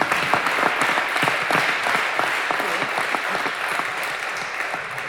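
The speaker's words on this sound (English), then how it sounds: "Round of applause for Justin." A crowd at a school athletics signing day celebration claps for a student athlete, a loud, continuous patter of many hands that stays even and busy throughout.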